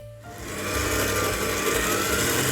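An electric mixer whips ten egg whites with a pinch of salt in a bowl, starting up after a brief pause and then whirring loudly and steadily with a slightly rattling motor drone.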